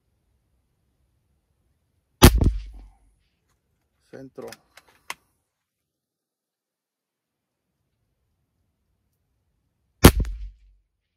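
Two sharp shots from a Mendoza Emperador PCP air rifle about eight seconds apart, each a crisp crack with a short decay, separated by a brief spoken word.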